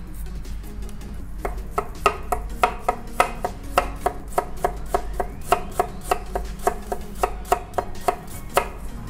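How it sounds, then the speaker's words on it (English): Lionfish meat chopped on a cutting board for dumplings, a close, steady run of sharp knife thuds repeating in quick rhythm, each hit crisp and distinct, with no talking. "I'm gonna chop up this one and then chop up the meats"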